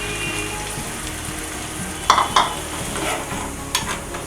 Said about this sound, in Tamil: இது எல்லாத்தையும் நல்லா கிளறி விட்டுக்கலாம்.